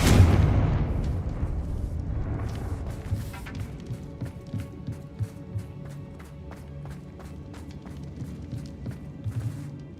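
Confringo blasting spell going off in the Hogwarts Legacy video game: a loud booming blast at the start, then a crackling tail of sharp pops and debris-like snaps fading over several seconds.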